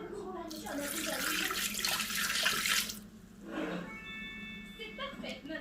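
Water poured from a tap or jug into a bowl of wheat flour mixture, a steady close splashing stream for about three seconds that stops, then quieter kitchen sounds and a faint beeping tone, with a person talking throughout.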